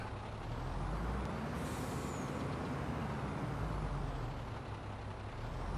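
A long, loud air-brake hiss from a truck in Farming Simulator 22 fills the whole stretch, a steady broadband rush over a low engine rumble, with no talk.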